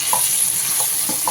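Tomato and onion stir-fried in oil for a chicken kulambu give off a steady, close sizzle, with a few soft scraping strokes of the spoon through the pan.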